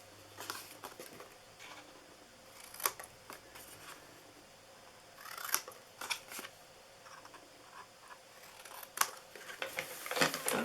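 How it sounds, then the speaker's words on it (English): Scissors snip through paper while making a Valentine's Day Hershey Kisses treat holder, with irregular close cutting clusters and soft rustling between them. "And then these I'm going to cut probably half off."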